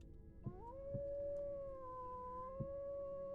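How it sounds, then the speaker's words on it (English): A single sustained animal howl in the survival game Vintage Story, rising then holding a long steady tone for about three seconds, with a few soft thumps underneath. "Don't you howl at me."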